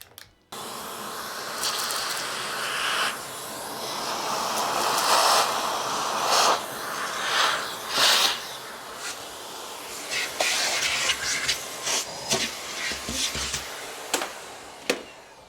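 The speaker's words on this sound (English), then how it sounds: "I'm gonna go get the vacuum cleaner so I can clean while I do this." A vacuum cleaner runs in a guitar-building workspace, a broad hissing whine that rises and dips as it is moved around, punctuated by bumps, rubs and sharp clatters from the nozzle against surfaces.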